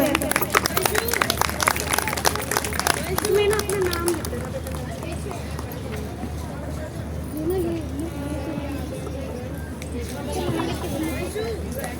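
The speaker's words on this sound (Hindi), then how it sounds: "एक बार जोरदार तालियां कृतिका गौतम के लिए" An audience at a leadership and personality development session bursts into loud clapping, which then fades into murmuring and scattered claps as someone speaks over it.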